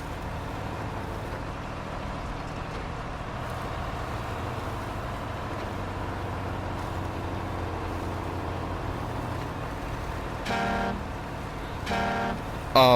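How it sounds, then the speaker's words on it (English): A truck horn in SnowRunner gives two short loud blasts near the end, over a steady low engine drone that fills the rest. "Wow, that's an awesome horn."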